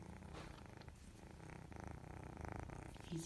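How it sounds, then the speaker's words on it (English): A kitten purrs close up in a steady, rhythmic rumble that continues unbroken and fairly soft throughout. "And you can hear his little purr."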